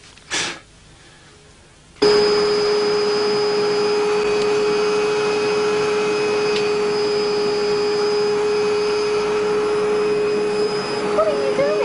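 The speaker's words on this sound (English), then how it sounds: "Vacuuming." A vacuum cleaner switches on after a brief quiet moment and runs loudly and steadily with a strong, constant whine.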